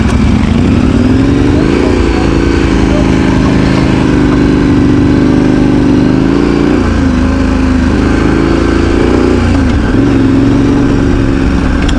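A KTM 1090 Adventure R motorcycle pulls away with a steady, loud engine drone whose pitch rises and dips as it accelerates, continuous throughout with no talking.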